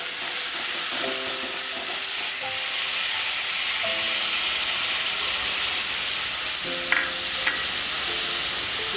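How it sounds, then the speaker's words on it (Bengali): Onion paste frying in ghee, for a prawn malai curry, makes a steady, fairly loud sizzle throughout, with faint tonal hums in the background and a couple of brief clinks near the end. "এই যে আমি পেঁয়াজ বাটা দিলাম ঘিয়ের উপর"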